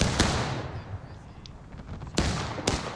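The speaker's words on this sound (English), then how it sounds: "And now a cannon opens up point blank from the rebel line" A cannon firing canister at point blank range during a Civil War battle in the game War of Rights, heard as sharp, loud, booming blasts, one early and two more near the end, over a rumbling backdrop of distant gunfire.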